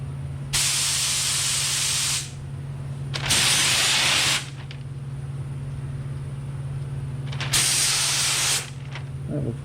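Three long bursts of loud spray paint hiss in a Mustang engine bay, each lasting a second or more, separated by pauses with a steady low hum in the background.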